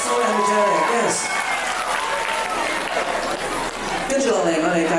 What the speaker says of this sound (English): Another round of applause for Serena for being so energetic.